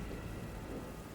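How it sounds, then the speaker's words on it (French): Steady outdoor rain with a low thunder rumble during a storm, a continuous dense wash of sound at moderate level with no voices. "Il y a la tempête dehors."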